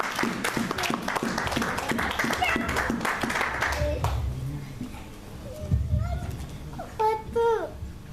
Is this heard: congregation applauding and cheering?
yes